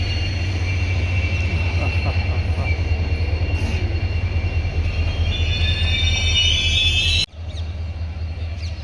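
Train engine rolling through a railway station, a steady loud rumble with a low drone and metallic squeal overhead, continuous and near, cutting off sharply near the end with the rumble carrying on afterward.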